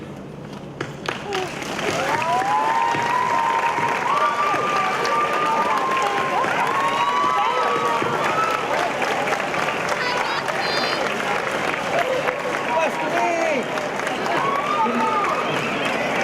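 Audience applause at a middle school graduation, a quiet start and then a sustained roar of clapping and crowd noise that holds steady for over ten seconds, with scattered voices and calls mixed in.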